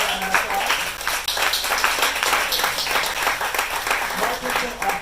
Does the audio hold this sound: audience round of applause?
yes